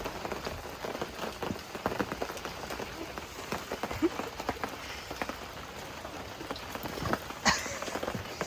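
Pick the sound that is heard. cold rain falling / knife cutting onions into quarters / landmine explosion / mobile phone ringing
cold rain falling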